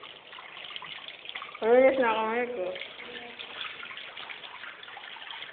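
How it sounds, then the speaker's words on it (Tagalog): Water gushes strongly from a tap into a basin, a constant splashing rush heard close by while a person talks briefly over it. "Wow, lakas ng tubig, oh."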